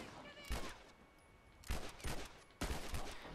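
Automatic rifle gunfire in The Last of Us multiplayer comes in three ragged bursts of rapid, crackling shots over a dim game background.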